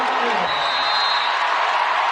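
A sustained, drawn-out crowd roar fills an NCAA Tournament basketball arena as fans chant 'Lou' for Lopez Senechal after her three-pointer, with a commentator talking over it.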